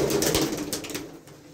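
Soft, low pigeon cooing murmurs close by, with rustling and faint fluttering from a group of pet pigeons, fading slightly toward the end.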